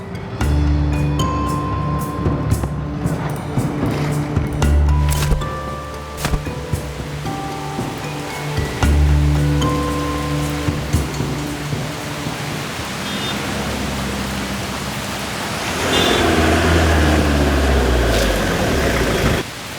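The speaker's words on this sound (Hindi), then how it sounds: "बारिश हो रही है" Steady rain pouring outdoors at night near a roadside bus stop, a dense continuous hiss with a low rumble underneath that swells louder near the end.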